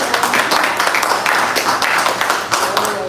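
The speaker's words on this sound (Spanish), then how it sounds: "Denle un fuerte aplauso al Señor que se lo da." Church congregation applauding together in a steady, loud wash of clapping that holds for about three seconds, with scattered voices mixed in.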